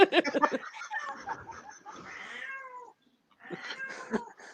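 A cat meows in several drawn-out, wavering calls close by, mixed with short laughing and vocal bursts, then a brief silence before more noise.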